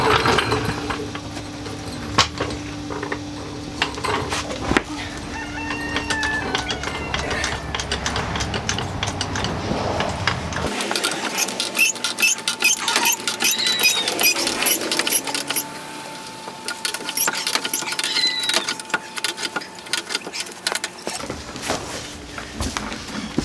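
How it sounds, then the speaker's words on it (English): Car being raised with a jack for tire removal, steady metallic ratcheting and clicking from the jack mechanism, close and fairly loud, with a shift in background noise partway through. "let's get this thing jacked up"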